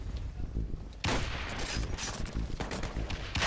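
Rapid bursts of gunfire from the online shooter game Metro Conflict, a dense, loud fusillade of repeated shots that keeps going across the whole stretch, with a sharper volley partway through.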